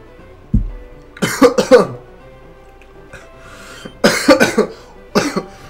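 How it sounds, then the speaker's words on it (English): Several sharp, harsh coughs come in bursts with pauses between, loud and close, with a sputtering, choking quality and no clear speech. "end the stream with me coughing and choking on water"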